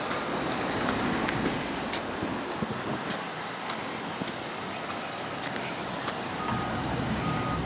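Two garbage trucks load trash on a busy street in the Rockaways, with reversing beeps and hydraulic, rumbling engine noise under steady traffic from fast-moving cars, a continuous loud wash with intermittent clanks and beeps.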